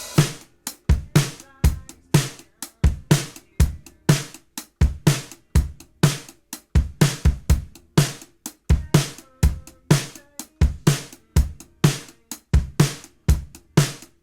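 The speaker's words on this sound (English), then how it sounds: "Dry, these drums sound like this." Dry, unsaturated live drum kit from an indie rock mix playing a steady groove, with punchy close kick and snare hits and bright cymbals, loud and direct with little room sound.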